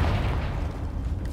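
A Confringo blasting spell goes off in Hogwarts Legacy, giving a loud, low, rumbling boom that fills the whole moment with heavy bass and no clear start or end.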